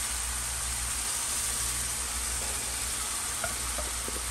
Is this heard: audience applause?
no